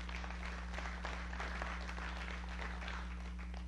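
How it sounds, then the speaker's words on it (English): A church congregation claps during a sermon, faint and diffuse over a strong low electrical hum, a brief soft patter of hands. "It's worth a hand clap."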